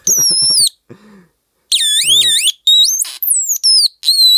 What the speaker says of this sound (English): people have described it as like a badly tuned radio